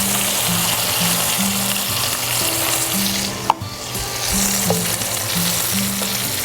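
Onions sautéing in a pan for a Sunday sauce as wine goes in, a loud continuous sizzle and bubbling with a brief clatter partway through.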